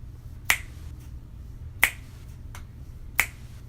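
Three crisp finger snaps land at an even, unhurried pace, clear and close over a faint low hum.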